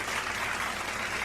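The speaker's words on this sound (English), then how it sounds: "I'm going to give that story an applause because that was a good story." Applause sound effect on a wrestling podcast, a dense wash of many hands clapping at steady, moderate loudness for just over a second, with no voices.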